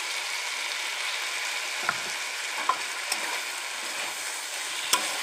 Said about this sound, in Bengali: এবারে এটাকে একটু ভালো করে সুন্দর করে নাড়াচাড়া করব